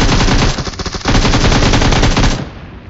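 Dense automatic gunfire in a battle royale game, rapid bursts of shots crackling loud and close for most of the stretch, with a brief lull before the firing resumes and then tapers off.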